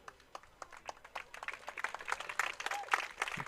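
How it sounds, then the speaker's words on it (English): A crowd at a high school baseball game applauds an injured umpire back on his feet, scattered clapping that starts sparse and quiet and swells into fuller, distant applause from the stands. "The crowd giving the umpire a nice round of applause."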